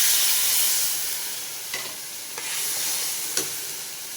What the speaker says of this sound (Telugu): కొద్దిగా బాగా వేగింది కదా, మనము ఇప్పుడు కైమా వేసేస్తాము.